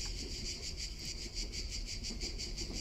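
Cicadas in the Chilla's Art Japanese horror video game keep up a steady, dense pulsing drone that throbs at a regular rhythm without a break, loud and continuous with no talk over it.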